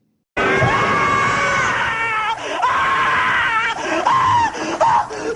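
A man screams in a scene from a Freddy's Nightmares TV episode, loud and continuous wailing cries with wavering pitch that break and restart several times, heard from a VHS-quality recording.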